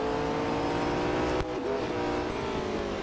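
McLaren race car engine in the mobile racing game Real Racing 3, a steady loud droning whine with harmonic tones held throughout and a brief dip partway through, no voices.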